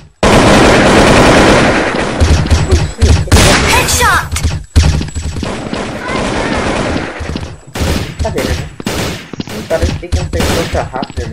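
Weapon fire in the BloodStrike shooter game comes as loud, rapid automatic bursts, with a long sustained stream at first and then shorter volleys broken by brief pauses.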